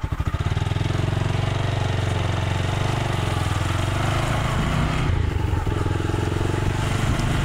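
A motorcycle engine catches and settles into a loud, steady running rumble close by, holding a constant rapid throb for several seconds without pause.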